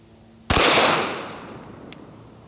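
A single very loud, sharp 22 TCM handgun shot cracks out close by during body armor penetration testing, followed by a long fading outdoor echo and a faint click afterward.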